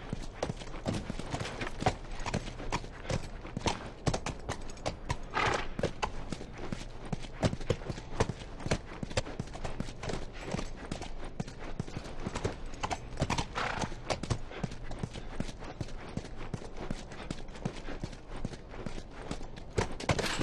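Continuous horse hoofbeats in the video game The Last of Us clop at a steady walking rhythm throughout, close and fairly even, with no voices.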